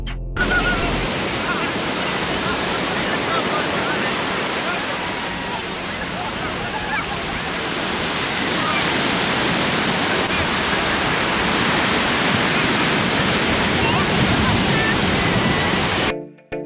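Surf washes continuously onto Varkala beach in Kerala, near the North Cliff, a dense, loud, unbroken roar of breaking waves that fills the whole stretch.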